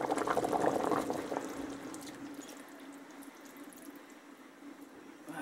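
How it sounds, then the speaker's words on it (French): Coconut milk poured into a pot of cooked butternut and vegetable soup, a soft liquid splash and gurgle that tapers into a quiet simmering hiss, with no talking. "je vais ajouter le lait de coco"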